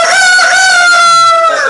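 A voice imitates a rooster crowing in Portuguese-speaking company, one loud sustained harmonic cock-a-doodle call held steady for nearly two seconds, close and alone.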